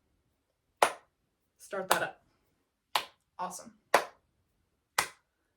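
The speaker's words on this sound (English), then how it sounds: "have group 1 over here clap your quarter note evenly" A class group claps evenly spaced quarter notes, sharp single claps sounding roughly once a second with short silences between them, close and clear, and a voice speaks briefly between the claps.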